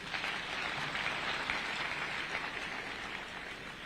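A crowd at the Thika High School 70th anniversary applauding a professor, dense sustained clapping at a distance that fills the whole span without pause.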